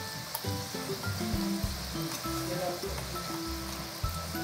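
Spices dropped into hot oil with the gas turned off for murmura chivda give a soft, continuous sizzle that sits under steady tonal background sound.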